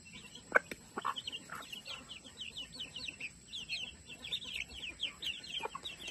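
Young chickens cluck and peep in short, repeated bursts, fairly quiet and close, with a few sharper calls near the start.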